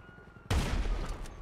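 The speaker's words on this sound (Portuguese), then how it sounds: "me deu um tiro com bala explosiva" Explosive-round gunfire in the GTA Online video game breaks in suddenly as a loud, dense burst of shots over a quieter game background, then trails off slightly while staying strong.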